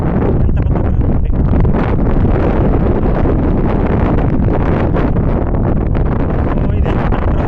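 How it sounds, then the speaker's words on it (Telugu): Strong wind blows hard and steadily at an outdoor temple site, buffeting close and loud with constant gusty roar and no talk. "గాలి చాలా ఎక్కువగా ఉంది"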